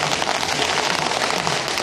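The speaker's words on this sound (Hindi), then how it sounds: "आतिशबाजी है।" Fireworks crackling at a celebration, a dense, loud, continuous hiss and crackle of bursts with no pauses and no voices.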